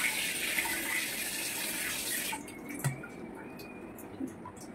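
Tap water runs steadily close by while fish is rinsed in a kitchen, a smooth hiss of flow that eases partway through into quieter trickling and small splashes.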